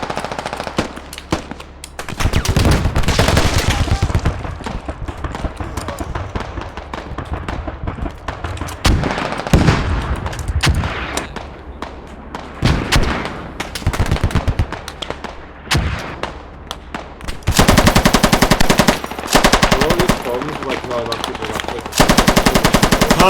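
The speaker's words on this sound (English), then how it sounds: "Can't hear you. Busy shooting." Dense, loud bursts of machine gun fire ring out in the military shooter game Squad, with long rapid volleys broken by short pauses and a continuous heavy stretch of automatic fire near the end.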